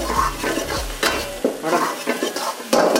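Ingredients for dal makhani sizzle in hot oil while a spoon stirs them in repeated scraping strokes against the pan, close and loud.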